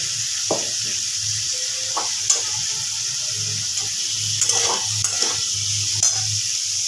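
A spoon stirs dalia in a pan with a boiled egg added, giving soft, irregular scrapes and sizzling wet bubbling under a steady hiss, with a few sharper clinks against the pan.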